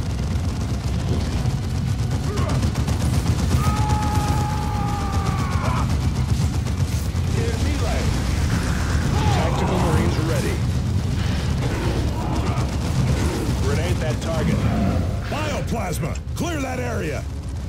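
Unit gunfire in the Dawn of War 2 battle game, with dense bursts of shots and mechanical clatter under a constant loud battle wash, while a voice talks over it.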